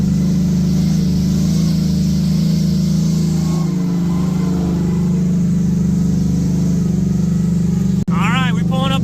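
A mega truck engine drones steadily while the truck drives down a trail, a loud constant low hum with shifting tone, and someone talks over it briefly near the end.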